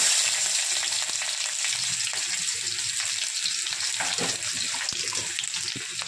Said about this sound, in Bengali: তেলটা গরম হয়ে গেছে, শুকনো মরিচ ফোড়ন দিয়ে দিলাম, তেজপাতা দিয়ে দিলাম, পেঁয়াজ দিয়ে দিচ্ছি